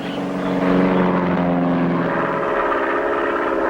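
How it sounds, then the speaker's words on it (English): A propeller plane taking off, its engine drone rising to a loud steady throbbing roar that holds through to the end, with no talk. "let's get this plane in the air"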